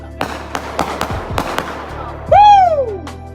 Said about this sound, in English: We're gonna have some fireworks going off.